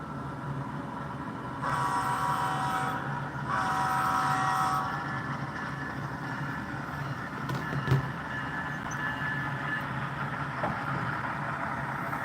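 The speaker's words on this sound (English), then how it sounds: "We're now starting up our CSX locomotive, and we'll boost up the throttle" An HO scale CSX ET44AC model locomotive, number 3394, starts up and throttles up, giving a steady electric hum with a brighter whining tone that rises and swells in two bursts before settling back into a constant drone.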